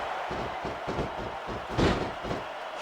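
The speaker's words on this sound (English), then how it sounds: "Simpson just slams his head into the canvas." In SmackDown vs Raw 2006, a wrestler's head is slammed into the ring canvas, a single heavy thud standing out near the middle over a rumble of ring and crowd noise.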